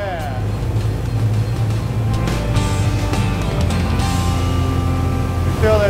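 Twin engines of a Viking 80 Convertible sport fishing yacht, droning loud and steady with a rising turbo whine near the end, heard over water and wind noise without any clear talk.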